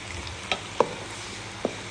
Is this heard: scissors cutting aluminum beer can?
no